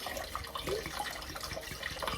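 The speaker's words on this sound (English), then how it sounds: "now we're going to put our filtered water in there, 500 ml" Filtered water pours into a blender holding raw pineapple, a steady splashing, trickling flow of moderate loudness with no speech.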